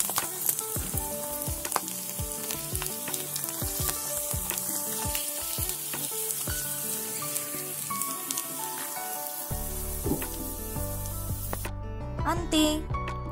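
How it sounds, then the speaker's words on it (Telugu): Tomato vadiyalu dropping into hot oil and deep frying, a dense crackling sizzle with scattered pops and spatters throughout, pressed and stirred in the pan, with a voice talking over it. "ఆయిల్ బాగా వేడవాలి, వేడైన తర్వాత వడియాలను వేసుకోవాలి। ఇలా కొంచెం ప్రెస్ చేస్తూ వేయించుకోవాలి।"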